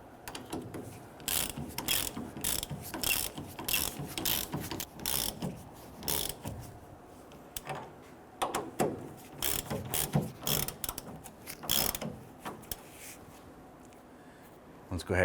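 A ratchet tightens the 18 mm nuts on the rear leaf spring shackles of a Nissan Frontier, sounding as repeated bursts of quick close clicking with brief pauses between strokes and a faint low voice underneath.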